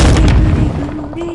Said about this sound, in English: Jeremy, what are you doing with a gun? Pew pew pew